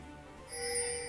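A faint electronic ping alert from an online video game's map marker arrow, a soft bright chime rising out of low background noise and ringing briefly.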